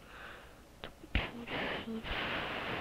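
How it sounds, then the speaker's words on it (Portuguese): Breath blown straight into a microphone in short bursts, a few rough puffs of air followed by longer sustained gusts, close and loud, with a couple of small vocal squeaks in between. "Eu tô soprando, foi mal aí, gente."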